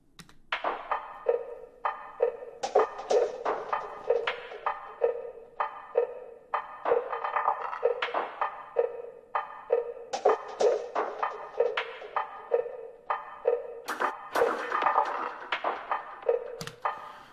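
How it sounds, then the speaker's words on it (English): An electronic music loop built from punchy, rhythmic percussive hits and a croaking, frog-like synth sound repeats steadily at moderate volume with no voices. "this loop also has some kind of a froggy thing"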